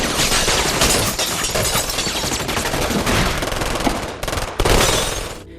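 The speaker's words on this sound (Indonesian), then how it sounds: "tiba-tiba kelompok Spider memberondong senjata ke rumah Tao dan Kowalt." Gang members spray machine-gun fire at a house in an action film, a long dense run of rapid, loud bursts with crackling impacts, a brief pause, then a final heavy volley.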